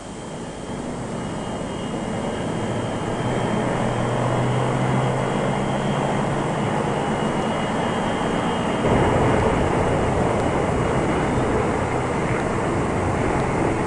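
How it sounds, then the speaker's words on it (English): Steady droning propeller engines of an RAAF Viscount airliner, loud and continuous, with a broad roar that swells slightly partway through; no voices. "The second Air Vietnam plane carrying many of the official party followed the RAAF Viscount carrying the Prime Minister"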